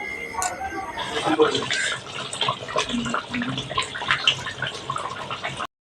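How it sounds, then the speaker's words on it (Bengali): Hot water poured from a pot into a chicken curry, a light splashing and trickling stream heard at moderate distance while a person speaks over it. "এবার এই গরম জলটা মাংসতে দিয়ে দেবে"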